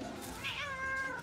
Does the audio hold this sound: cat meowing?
yes